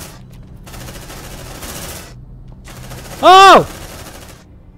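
In the Aliens: Dark Descent video game, rapid bursts of automatic gunfire rattle in two sustained stretches, then a sharp shout cuts in loudly near the end.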